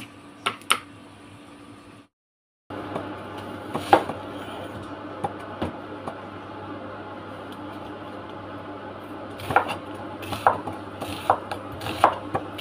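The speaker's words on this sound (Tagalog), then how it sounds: "Hiwa tayo, guys, ng white onion." A knife slices a white onion on a board in a home kitchen. Crisp, irregular cutting taps come up close over a steady background hum, with a short silent gap early on and a denser run of cuts toward the end.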